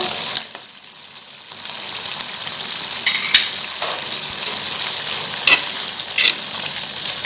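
Cut tempe sizzles steadily in a hot pan for sambal krecek, a close, even frying hiss broken by a few sharp clacks of stirring, with no voices.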